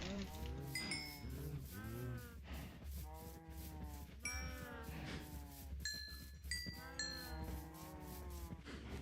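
Repeated synthetic cow moos from cows being bred in Minecraft, several overlapping low calls in a steady rhythm, with chimes from the game and constant background noise.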